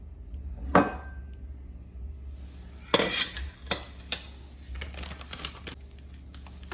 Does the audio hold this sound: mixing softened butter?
yes